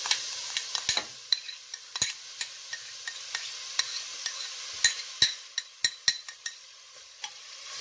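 Onions fry in olive oil with a soft, airy sizzle while a utensil clicks and taps against the pan in an irregular run of stirring strokes.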